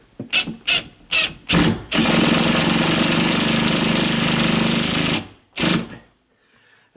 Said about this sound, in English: That's the beauty of these impact drills.